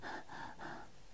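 A person imitates a dog panting, producing three quick, breathy huffs in a steady rhythm, soft and close.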